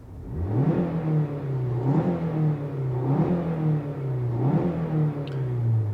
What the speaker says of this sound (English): इतनी engine की आवाज आपको कैबिन में सुनाई देगी